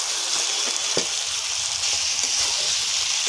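Eggplant and potato pieces sautéing in hot spiced oil, an even, fairly loud crackling hiss with an occasional stir or knock, heard up close without speech.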